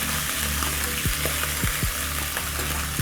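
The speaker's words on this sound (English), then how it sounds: "we are just searing the meat" Short beef ribs sear in a hot pan on a stovetop, giving a steady, close sizzle and crackle throughout with occasional sharp spatters and clinks.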